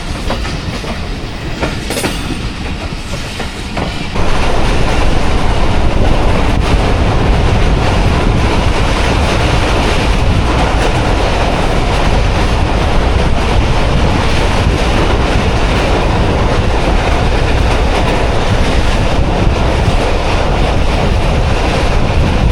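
Khyber Mail passenger train passing close by near a derailment site, arriving abruptly after a few seconds as a loud continuous roar with rhythmic clickety-clack of wheels and wind buffeting, carrying on steadily to the end without speech.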